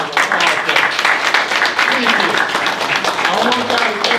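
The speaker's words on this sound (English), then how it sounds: "Let's give her a round of applause." Audience applause at a candidate forum in a recreation center, a steady, loud wash of many hands clapping that fills the room with no pauses.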